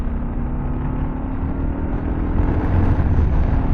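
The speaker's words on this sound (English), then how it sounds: "At least this sounds and feels like a regular motorcycle" A Kawasaki KLR650 motorcycle engine hums steadily under muffled road noise while riding on a gravel road, close and continuous, rising slightly toward the end.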